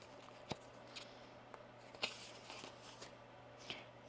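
A deck of tarot cards is shuffled at close range during a reading, with a few soft riffles and sharper card snaps spread over about four seconds, faint and alone against quiet room tone.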